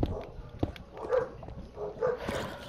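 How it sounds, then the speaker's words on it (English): Dogs bark a few times at a distance, faint and intermittent, with scattered yips and thumps between the barks. "Who's barking?"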